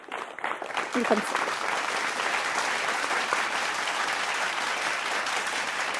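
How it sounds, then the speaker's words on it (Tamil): Steady applause from a large audience at a student speaking contest, dense clapping that holds evenly throughout. "உங்களுடைய அரங்கம் நிறைந்த கைத்தட்டலோடு அவரை வரவேற்கலாம்"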